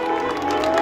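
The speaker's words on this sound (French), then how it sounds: "Sous vos applaudissements, mesdames et messieurs." A crowd applauds a runner at a marathon, producing a steady, dense wash of clapping that lasts the whole short moment.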